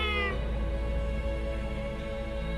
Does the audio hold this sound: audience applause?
no